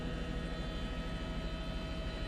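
A police news helicopter flies over a Houston chase, its rotor drone a steady, dense, continuous roar close to the microphone, without any voices.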